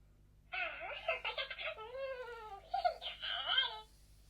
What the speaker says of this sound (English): So that was purrs and hums.